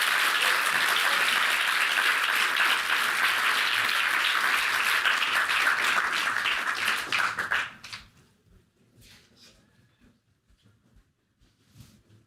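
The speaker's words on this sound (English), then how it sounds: "big round of applause to Google Choir, please." Applause from a startup founders' event audience for a company choir: loud, dense clapping that holds steady for about eight seconds, then fades quickly to a few scattered claps.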